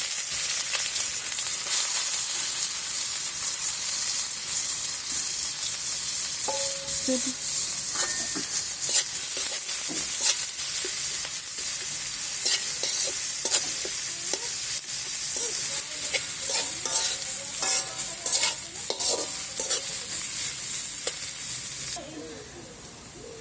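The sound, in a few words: prawns cooking in a pan, stirring and sizzling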